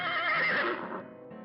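A horse whinnies loudly and close, a single drawn-out neigh that trails off, heard alone, at a racetrack that hosts a long-running derby.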